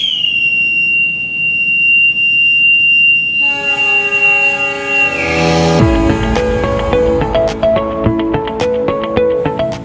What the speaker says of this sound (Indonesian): kereta api Argo Wilis tepat pada pukul 14:47 diberangkatkan kembali setelah 3 menit sebelumnya tiba di stasiun Tasikmalaya